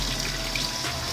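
Water runs from a tap during washing, a steady, close rush of flow without pauses.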